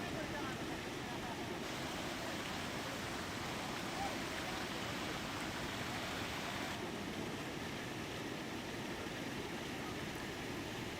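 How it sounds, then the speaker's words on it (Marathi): A river in Jalna district swollen after heavy rain makes a continuous broadband rush of flowing water, even and unbroken at a moderate distance, with no voices over it. "नदीचा प्रवाह मोठ्या प्रमाणात वाढलेला आहे"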